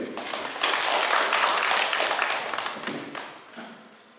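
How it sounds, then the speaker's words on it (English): Audience applause welcoming a speaker to a cosmology talk, swelling quickly into a steady wash of clapping from a moderate-sized room, then tapering off toward the end. "please give a big round of applause for Swagat"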